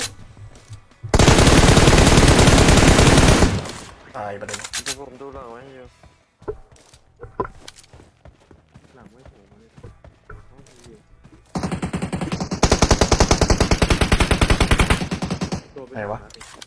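Loud, sustained bursts of rapid automatic gunfire come in two long volleys, with quieter rattling and voices in between.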